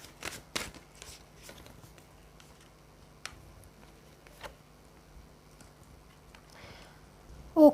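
Tarot cards being shuffled and drawn for a reading, giving a few soft riffling flicks early on, then sparse faint card taps and slides in a quiet room.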